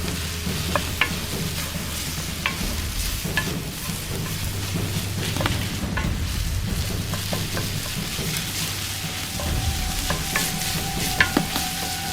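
Salmon skin frying in a pan, a steady hiss of sizzling with scattered crackles and pops and occasional stirring scrapes, close and continuous with no speech.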